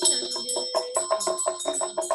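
A small bell rings rapidly in a steady series of bright, shimmering strikes during a Nolsang chanting instruction session, fairly close and clear.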